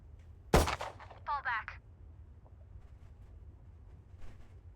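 A few gunshots in a tactical shooting video game: one sharp loud crack, then a quick burst of shorter shots, over a quiet background hum.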